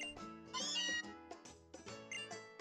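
A cat meows in the Pokémon Moon video game, a short series of tonal, synthesized-sounding mews with sharp onsets, fairly quiet and heard alone without talk.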